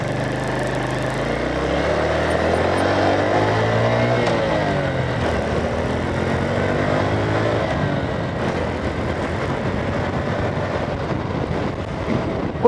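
A small engine with a rotary transmission revs up in wide-ratio gears, its note climbing, dropping during a clutch pause and climbing again through successive shifts, steady and fairly close with no talking.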